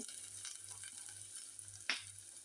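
Ginger frying in a little oil in a pan, a faint steady sizzle with a soft low hum underneath and one brief louder pop or stir near the end.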